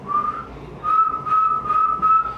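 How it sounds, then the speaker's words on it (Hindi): Whistled tones demonstrating the mouth position for a beatboxing water-drop sound: a steady pitched whistle in short repeated bursts, close and fairly loud, with no talking. "बस आपको ना सीटी बजानी है, लाइक"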